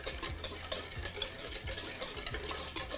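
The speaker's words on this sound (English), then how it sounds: "give it a good whisking" Whisk beating a mixture in a bowl, quiet rhythmic strokes repeating about three times a second with light scraping against the bowl, no talking.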